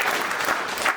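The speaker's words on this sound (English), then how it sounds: "I'm sorry to interrupt your applause there" An audience at a book launch in the Chicago History Museum claps in a brief, dense burst of applause that carries through the whole short moment without voices over it.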